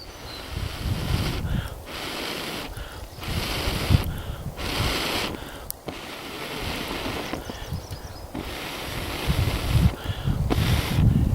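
Breath blown steadily onto burning coal set against a wooden spoon to char it, coming as repeated gusty, roaring bursts with short pauses between, close and loud, with no talk.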